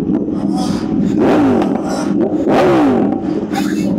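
Revving liter-class sport motorcycle engine at a car meet, loud and close, with rising and falling throttle blips and a steady, dense roar throughout.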